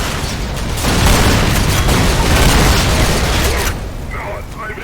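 A grenade goes off in the video game Black Mesa: a loud, deep booming blast that rumbles and roars for about three seconds before tailing off.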